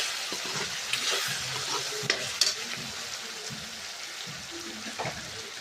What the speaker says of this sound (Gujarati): આમાં આપણે ડુંગળી અને ટામેટા સરસ રીતે સાતળી ગયા છે